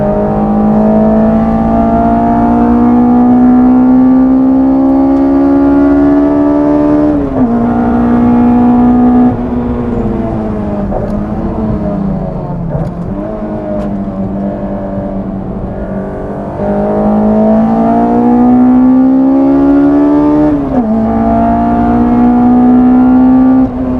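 A Honda S2000 fitted with individual throttle bodies, tuned to about 262 bhp and revving toward 9000 rpm on a race track, screams loudly and steadily, its pitch climbing and dipping through gear changes with no talk over it.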